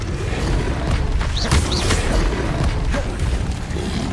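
A fiery Confringo spell blast booms inside the Hogwarts Legacy game, a loud explosive burst landing amid dense, continuous combat noise and game music.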